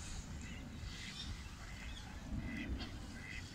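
Ducks quacking in short bursts outdoors, somewhat distant, over steady wind-like background noise.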